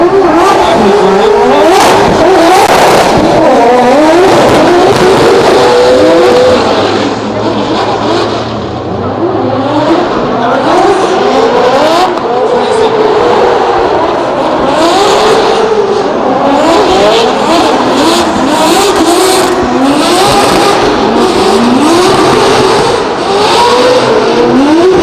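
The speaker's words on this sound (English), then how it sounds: "that Volvo is shooting those wastegate flames directly up into the air" Volvo drift car at a night practice session of a German drift competition, its engine revving hard and continuously with rising and falling sweeps, loud and close, other crowd and arena noise blended underneath, no talk.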